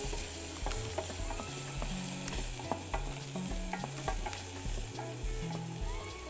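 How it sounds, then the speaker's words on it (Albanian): Onion sizzles in a pan for a squash casserole, with frequent scraping and clinking of a utensil as it is stirred. The frying is close and constant, with no voices. "Skuqim deri në masën sa të zbutet ose të marrë të ngjyrën e verdhë."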